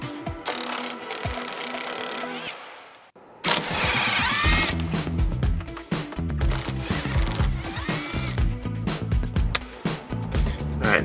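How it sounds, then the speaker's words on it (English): A socket wrench ratchets close up, loosening painted factory bolts on a 2021 Ford Bronco, a busy rapid clicking that continues in bursts after a short silent pause partway through. "we gotta start by removing these three factory bolts. They do have paint on them, so make sure you get the socket all the way on"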